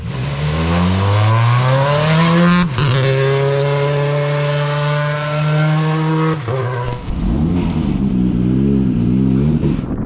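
A loud WRC rally car engine at Rally Portugal revs hard through several gears while warming its brakes, climbing and shifting repeatedly, with brief cuts between changes, close and continuous throughout.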